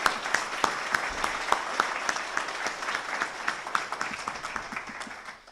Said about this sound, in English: just one more round of applause for this excellent program